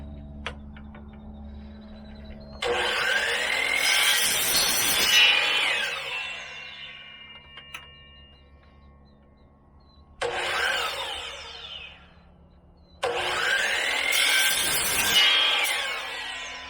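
Bungee cord being cut to length at a marked line for shade cloth supports, heard as three sustained rasping, sawing bursts with short pauses between, fairly close and loud, no talking.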